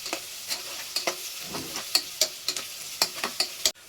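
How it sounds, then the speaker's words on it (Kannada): Onions fry in a pan for moong dal kichdi, giving a soft sizzle as a spoon scrapes and stirs in a quick, regular rhythm of sharp clinks and taps, close up and with no voices. "ಇವಾಗ ನೀರುಳ್ಳಿ ಹಾಕಿದ ಮೇಲೆ ಸ್ವಲ್ಪ ಹೊತ್ತು ಇದನ್ನ ಫ್ರೈ ಮಾಡಬೇಕಾಗುತ್ತೆ"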